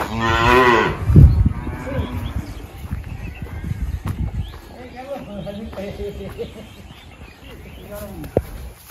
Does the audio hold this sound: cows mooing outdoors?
yes